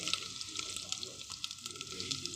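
Garlic and ginger paste sizzling in a hot pan with cumin, a steady bright crackle and hiss with small popping bursts, close and continuous.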